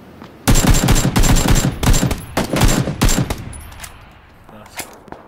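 Automatic gunfire in a PlayerUnknown's Battlegrounds squad match: several loud, rapid bursts of shots in close succession, then a few sparser, fainter shots trailing off.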